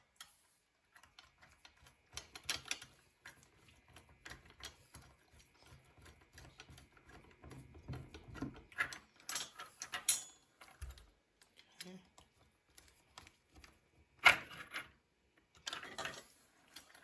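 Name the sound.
tightening screws with a number 2 Phillips screwdriver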